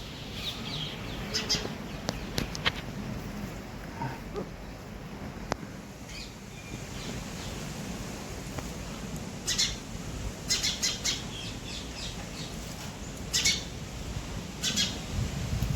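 Sparrows chirp at their nest outdoors, with scattered short sharp calls and tweets over a steady windy rumble.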